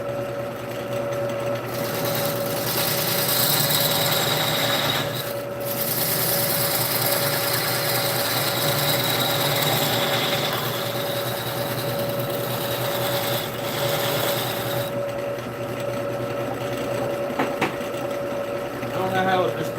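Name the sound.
wood lathe spindle spinning a burl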